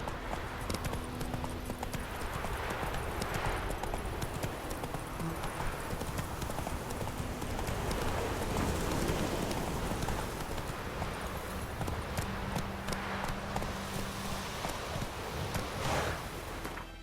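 Roach, a horse in the video game The Witcher 3, trots with steady, close clip-clopping hooves that run without a break, under a constant bed of wind and rustling.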